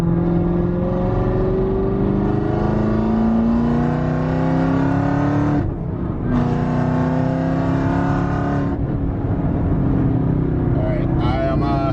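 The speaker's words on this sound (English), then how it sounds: "I love that rev match, man." A supercharged 1000-horsepower Camaro ZL1 revs loud and close, its engine pitch climbing steadily, dropping briefly on a rev-matched downshift, then climbing again, while a driver talks over it.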